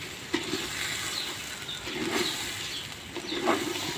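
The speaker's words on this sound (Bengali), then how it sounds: "এখন এর মধ্যে ধুয়ে লওয়া চাউল দিয়ে দেবো এখন চাউলগুলো ভালো করে কষে নেব" Washed rice stir-fried in a pan for biryani, a steady sizzle with a few soft scraping stirs of the spoon against the pot, close up.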